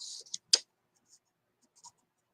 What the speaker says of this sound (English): I'm going to write, I am limitless.